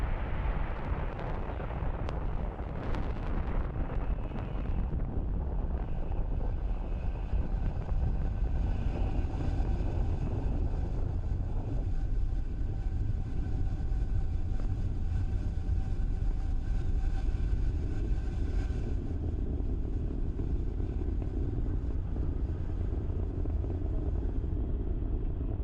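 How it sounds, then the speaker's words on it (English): A SpaceX Falcon 9 rocket lifts off carrying BlueWalker 3 and Starlink satellites, its steady, loud broadband roar continuing unbroken as the vehicle climbs away, with a crackling rumble throughout and no voices. "And lift off of Falcon 9."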